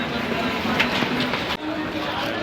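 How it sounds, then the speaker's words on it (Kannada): Solapur Express train pulling in, heard as a broad steady rumble of rolling rail cars with faint clattering, fairly close and continuous, with voices mixed in. "ಸೋಲಾಪುರ್ ಎಕ್ಸ್ಪ್ರೆಸ್."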